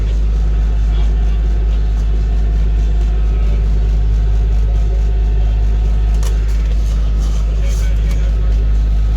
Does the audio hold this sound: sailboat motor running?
yes